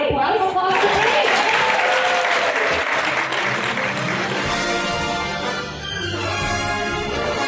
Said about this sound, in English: Can we get a round of applause? For Kay.